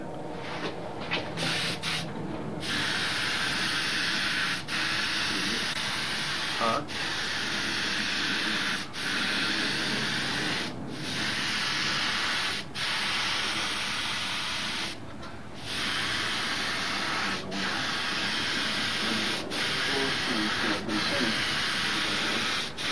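Clear coat sprayed onto a Brodak Cardinal model airplane: a steady, fairly close airy hiss runs continuously, broken by brief pauses between passes, with faint background noise and no talking.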